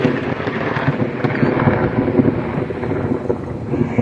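Thunder from a lightning strike directly overhead during a tornado-warned storm near Independence, Kansas: a loud, sustained crackling roar that fills the whole moment, with wind buffeting the microphone.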